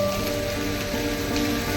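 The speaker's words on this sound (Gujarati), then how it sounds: "વરસાદે બહુ સારું છે યાર." Rain pours steadily outside a shopping tower, a loud, continuous hiss of drops hitting surfaces close by, heard without talk.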